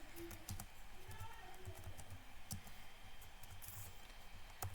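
Someone types HTML code on a computer keyboard, the soft, fairly quiet clicks falling in irregular bursts with a few sharper keystrokes and a low hum behind them.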